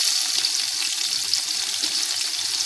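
Steady, close hiss of hot oil sizzling with whole spices (cinnamon, cloves, cardamom) for mutton biryani, a continuous crackling fry with faint stirring underneath and no voices.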